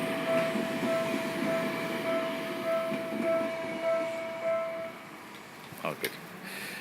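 A train rolls past continuously on a Japanese walking commute, a steady near rumble and rail clatter with a sustained tone, fading and ending with a couple of sharp clanks.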